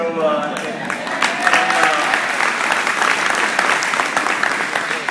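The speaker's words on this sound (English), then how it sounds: "I'd be a little tentative with that applause." An audience at a speaking event applauds loudly, close and dense clapping that swells after a voice speaks briefly at the start, then continues steadily with scattered individual claps standing out.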